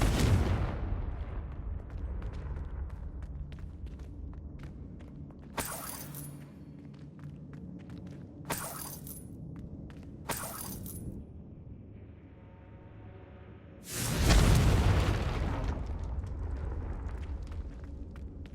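Confringo explosive spell blasts in Hogwarts Legacy, several sharp cracking bursts over a low rumbling game background, ending in a larger booming blast that fades out.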